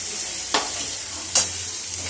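A tomato mixture with salt, turmeric, cumin powder and chili powder sautéing in a pan. A low sizzle runs underneath, broken by three quick scraping strokes of a spatula stirring it.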